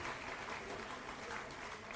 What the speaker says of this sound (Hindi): साथियों, जोरदार तालियां जरूर बजाइए